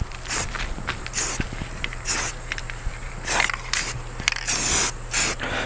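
Spray paint being applied to a wooden crate bench for a mudroom, heard as repeated short hissing bursts of varying length with brief gaps, close and fairly loud over a steady low hum.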